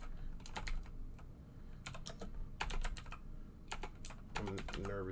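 Computer keyboard typing in bursts of quick key clicks, with a pause midway and a low voice or hum underneath, the keystrokes fairly close and moderately loud.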